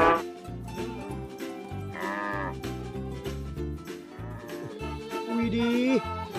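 Two cattle moo in low drawn-out calls over rhythmic background music, with a higher bleating cry near the end.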